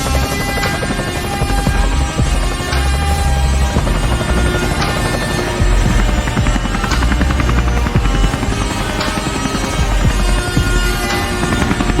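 A helicopter sound effect stands in for a passing CNG auto-rickshaw in a comic drama: a loud, steady whirring rotor drone with a pulsing beat that fills the whole stretch, with no talk over it.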